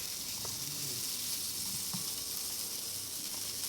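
Sausage and onion frying in a pan, a steady close sizzle and hiss with faint clinks underneath.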